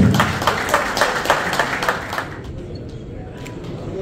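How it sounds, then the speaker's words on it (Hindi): An audience at a tape-ball cricket trophy ceremony in a stadium claps in a dense, steady burst that fades out after about two seconds, leaving quiet room tone. "Ladies and gentlemen, can we have a big round of applause, please?"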